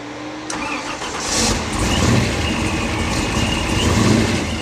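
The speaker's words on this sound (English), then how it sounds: "Go ahead and fire it up." A 725-horsepower Eleanor muscle car engine cranks and catches, then roars into a deep, loud idle that rumbles steadily up close with occasional throttle swells.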